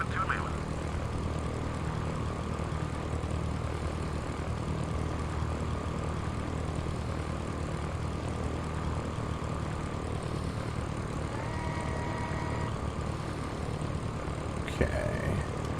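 A Cessna propeller plane drones steadily in flight in a flight simulator game, a constant engine hum throughout with a brief tonal beep near the end.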